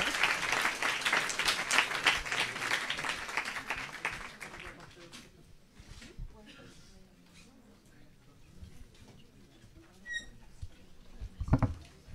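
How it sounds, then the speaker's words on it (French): A crowd at a French research and arts event claps steadily with dense, bright applause, then it tapers off to a quieter room with scattered small noises. "Donc Bérénice Amidikine, on les applaudit."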